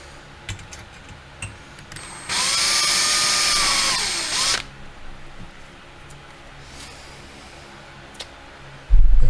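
A power drill bores a 9.3 hole in a 4L60 automatic transmission valve body during a shift kit install on a supercharged VY L67 Commodore, a single loud whine of about two seconds set against quiet workshop background.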